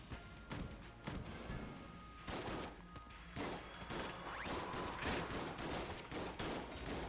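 A dense, relentless barrage of gunfire from the video game Enter the Gungeon, with overlapping rapid shots and impacts running continuously and loudly from start to end, with no voices.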